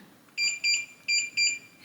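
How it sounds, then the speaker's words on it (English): A Kwikset Powerbolt 240 electronic door lock keypad sounds four clear, high electronic beeps in two quick pairs, close and loud in a quiet room. "you're going to hear a long beep and see a green flash here, meaning the code has been removed"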